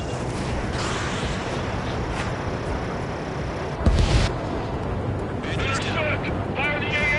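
Anti-aircraft fire in the Ace Combat game around an F-16, a dense roaring barrage of distant booms and rumble with a sharp louder burst midway, under continuous battle noise with radio voices talking.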